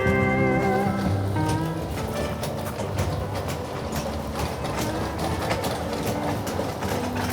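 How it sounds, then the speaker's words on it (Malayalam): A small amusement park train rolls past at a Kerala park, a steady rumbling clatter with a few tonal squeals at the start, continuous and fairly loud. "ട്രെയിന് പോവുകയാണ്."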